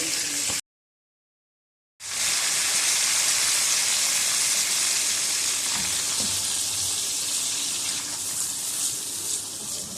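Masala sizzling and frying in oil for Lahori chana, a dense, loud crackling hiss that follows a brief silent gap and then continues steadily with occasional stirring clicks and no talk.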